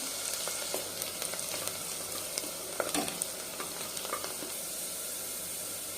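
Two chopped onions fry in oil for a mutton curry, giving a soft, even sizzle punctuated by light ladle scrapes and taps, close and fairly quiet, with no talking.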